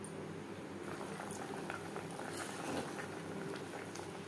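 Bhetki fish simmering in a mustard paste gravy, a soft, steady bubbling with small popping patters, quiet and close, no talk.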